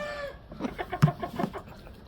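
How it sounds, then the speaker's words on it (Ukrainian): A Cobb 500 broiler hen clucks in a quick series of short, rhythmic clucks, close by, after a brief higher tone at the start. "Це курка."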